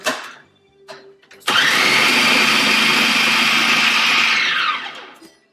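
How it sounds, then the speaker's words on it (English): Electric food processor grinding onion at a medium setting, a loud steady motor whir running about four seconds before spinning down, after a few brief clicks and handling sounds. "I'm going to go to the medium grind on this, because the onion is a little bit denser"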